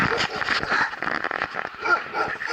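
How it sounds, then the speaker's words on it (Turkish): Sled dogs on Norway's Lofoten islands bark and whimper in an excited, overlapping chorus, close and loud, with yips rising and falling throughout. "Bu köpekler çekiyor kızakları."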